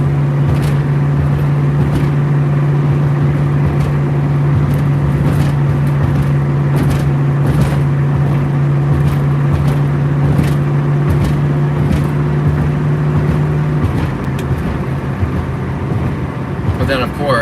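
A Ford Mustang on a highway is heard from inside the cabin as a loud, steady engine drone with road rumble that holds level, then eases slightly near the end.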